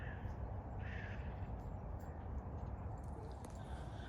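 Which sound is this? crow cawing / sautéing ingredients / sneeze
crow cawing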